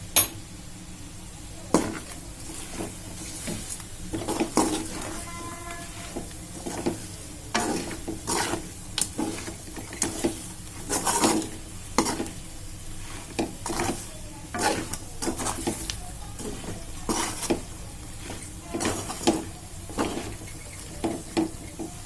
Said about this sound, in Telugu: ఇలా 2 నిమిషాలు వేయించుకున్నాను